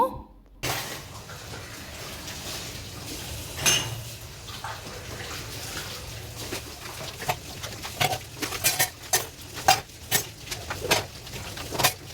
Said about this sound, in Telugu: ఇంకా గిన్నెలు అయితే తోముతున్నాను